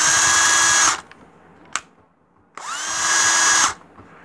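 A refurbished DeWalt DW991 cordless drill with a two-speed transmission whirs loudly in two bursts of about a second each, winding down between them, with a brief click in the quiet gap.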